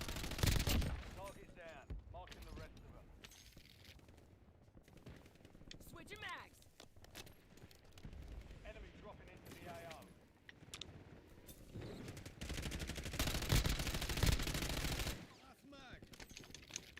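Video game gunfire crackles in bursts of rapid machine-gun fire and scattered shots, fading and returning across the stretch, with players talking over parts of it.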